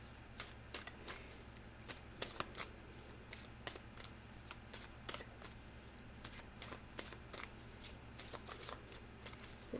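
Oracle timing cards being shuffled by hand, a steady run of crisp riffling flicks and slaps, close and fairly quiet, with no talking.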